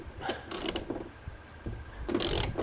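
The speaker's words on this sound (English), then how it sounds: "We're gonna be using at 13 millimeter. Let's unloosen the top." A ratchet with a 13 mm socket clicks in several short bursts while loosening a hood bolt on a RAM 1500 Limited, close up and fairly quiet, with brief pauses between strokes.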